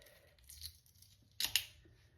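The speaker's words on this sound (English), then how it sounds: "So you crack them all over. Just really crack them all over." Hard-boiled eggs for bacon and horseradish deviled eggs are cracked all over their shells, giving a few quiet, short crunchy crackles: one small burst, then a quick double crackle a second later.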